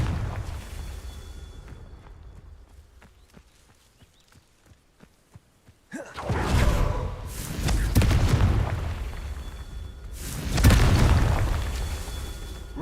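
Confringo blasting curse explosions in Hogwarts Legacy: after quiet footstep-like taps, a sudden loud boom erupts and rumbles on, followed by another big blast a few seconds later.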